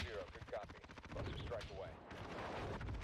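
Cluster strike explosions rumble in Call of Duty Warzone, a chain of booms and crackling blasts rolling on continuously under excited voices of players talking over it.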